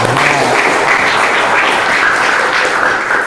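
Applause from a class of students after a group's answer, a steady dense patter of many hands filling the room at close range, with no talk over it.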